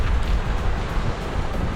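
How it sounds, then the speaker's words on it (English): Wind blows hard across a rocky Purbeck coastline with surf rolling in beneath it, a steady, close, buffeting roar with low rumble and no voices. "woken up to the noise of the waves"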